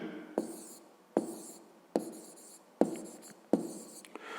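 A hand writes out a math solution for a fifth-grade exercise, with five distinct pen-on-paper stroke bursts, each a sharp tap followed by a short scratching trail, close and fairly quiet with no speech.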